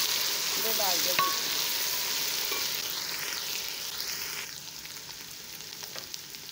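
Green chilies, ginger and garlic added to browned onions in hot oil, a bright, steady frying hiss with a few stirring scrapes and clinks, slowly easing off.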